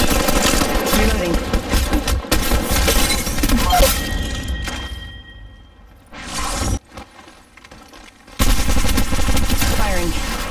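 Heavy automatic gunfire in Apex Legends Mobile rattles loud and close with mechanical clatter, thins into a quieter stretch with scattered shots, then bursts back at full volume.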